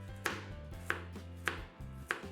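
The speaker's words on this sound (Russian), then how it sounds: "И дальше некрупно нарезаем морковь," A knife coarsely chops carrots on a board with four evenly spaced, sharp strikes, close up, over quiet background music.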